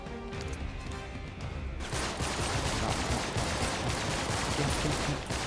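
Rapid micro Uzi fire rattles in the video game Uncharted 3, a sustained dense burst starting about two seconds in and continuing loudly to the end, following quieter game ambience.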